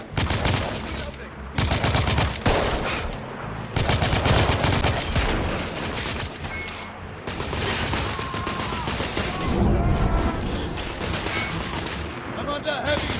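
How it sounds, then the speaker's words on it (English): Heavy sustained gunfire from The Order: 1886 rattles loudly in dense bursts with brief gaps, nearly continuous across the scene, with shouted voices mixed in. "I'm under heavy fire!"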